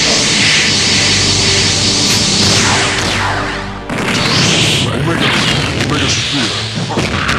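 A loud, dense burst of special-attack effects in a DC vs Marvel villains fighting video game, with crashing booms, whooshes and static-like noise sustained throughout, a brief dip near the middle before surging again.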